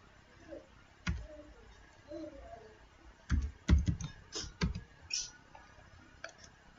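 Keystrokes on a computer keyboard come in a short irregular burst of close, crisp clicks after a few isolated taps, with a faint bit of background murmur early on.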